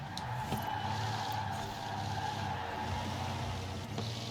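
A Napier car racing in the Forza Horizon 4 rally game, its engine droning loudly and steadily throughout with skidding tyre noise layered over the roar, and no talking.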